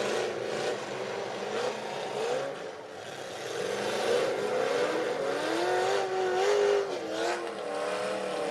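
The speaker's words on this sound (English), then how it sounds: "Some good running motors out there." Several cars rumble and rev in a 2018 demolition derby arena with about six left running, many of them Chevys. The engines drone steadily from a moderate distance, with pitch rising and falling as motors rev, and no voices.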